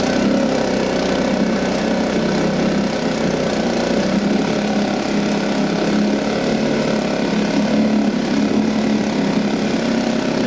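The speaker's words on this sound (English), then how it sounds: "It sounds exactly the same as the 1952 Elgin did, basically because it's the same motor." A 1975 Chrysler 3.6hp outboard motor running at a steady idle, a loud continuous buzzing drone close by with no pauses and no voices over it.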